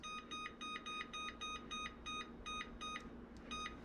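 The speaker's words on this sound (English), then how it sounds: "Now we're going to set a timer for 10 minutes." A kitchen timer set while baking oatmeal chocolate cookies beeps in a steady rapid series of bright, evenly spaced electronic tones over low background hum.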